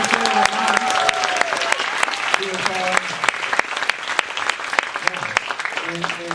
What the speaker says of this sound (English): So let's get a round of applause for our moms.